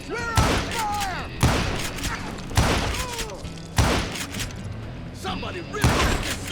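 Heavy gunfire in the Western shooter video game Call of Juarez Gunslinger, with loud booming shots landing roughly every second, each followed by a ringing tail and whizzing ricochets, over a continuous battle din with shouted voices.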